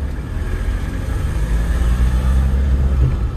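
A 2007 Land Rover Defender 110 XS Station Wagon Special Edition on the move, its engine a steady low rumble with slight swelling toward the end, heard from inside the cabin with no talking.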